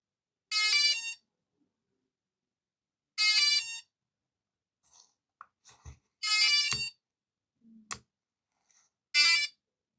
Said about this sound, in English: it will automatically trigger an alarm